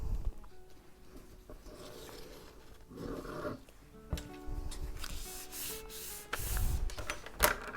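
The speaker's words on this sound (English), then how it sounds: "I'll just burnish that because it helps that glue adhere" Paper scrap glued onto a junk journal page is burnished by hand, giving repeated close dry rubbing and scraping strokes of varying loudness, with a few sharper taps near the end.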